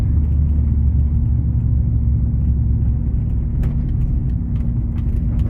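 A 1989 Dodge D150 truck with a throttle-body fuel-injected engine idles roughly, giving a steady low rumble close to the microphone with faint clicks near the end.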